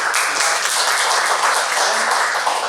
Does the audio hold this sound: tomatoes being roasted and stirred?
no